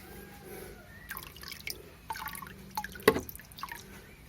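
Moina culture water being poured into containers, heard as faint scattered drips and small splashes in a quiet room, with one sharper splash near the end.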